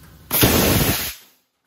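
A tire bead blaster on an old FMC Signature Series 7600 tire changing machine fires one loud, sharp blast of air that roars for about a second before cutting off into silence.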